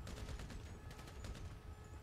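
Gunfire in the GTA Online video game, a faint rapid burst of shots with a rattling, fusillade-like rhythm, low in level and without talk.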